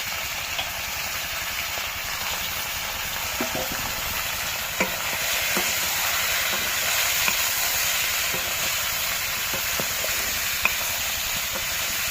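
Duck meat sizzles steadily in a hot pan of oil for a duck curry, a constant frying hiss with occasional small pops and stirring clinks, close and even, with no talking.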